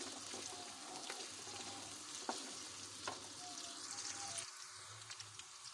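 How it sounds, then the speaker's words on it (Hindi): Finely chopped onions, three of them, fry in oil toward golden brown, giving a steady close sizzle with occasional clinks of a stirring spoon against the pan; no one talks. "हम इसमें 3 बारीक कटी हुई प्याज डाल लेंगे। और व्यूअर्स इसको अच्छे से फ्राई करेंगे ताकि ये गोल्डन ब्राउन हो जाए।"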